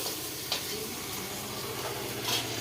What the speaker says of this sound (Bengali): আমার এই ছোটো চিংড়িটা ভাজা হয়ে গেছে, আমি তুলে নিচ্ছি